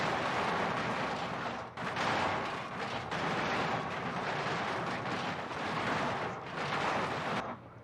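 Rockslide sound effect from a BeamNG game mod: a continuous rumbling, crashing roar of tumbling rock with repeated heavy bursts, fairly faint and with no voices.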